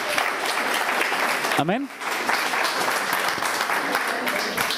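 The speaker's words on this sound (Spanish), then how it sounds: "Dele un aplauso a Dios" A church congregation applauds continuously in a dense, steady wash of clapping, with a single voice briefly calling out over it midway.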